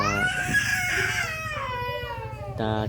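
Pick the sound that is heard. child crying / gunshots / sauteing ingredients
child crying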